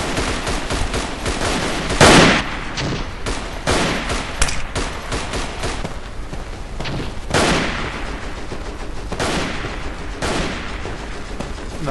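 Rapid bursts of gunfire from the video game Verdun crack repeatedly, with a few louder shots standing out among the rattling volleys, close and loud, no voices.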